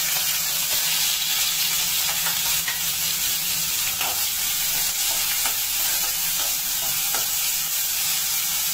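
Chopped onion fries in a pan with curry leaves, garlic cloves and a green chilli for a Bhogi vegetable dish, giving a loud, steady hiss and sizzle with occasional light crackles, close up and unbroken.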